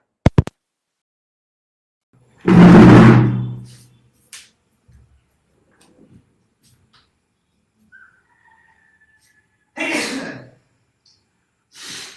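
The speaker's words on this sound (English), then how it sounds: "Let me blow my nose really quick." A single forceful, noisy nose blow bursts out, followed by quiet shuffling and a second shorter blow or snort later on.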